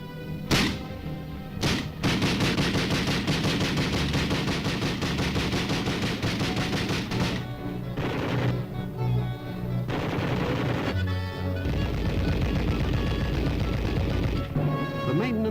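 Army weapons fire during Arctic and subarctic tests in Alaska, a dense, continuous barrage of overlapping gunshots and bursts, loud and sustained, under a narrator's voice.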